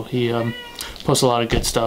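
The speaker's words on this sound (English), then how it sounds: "That's my cat." A house cat meows loudly and close several times in quick succession, drawn-out calls in a short burst, with someone speaking over and between the cries.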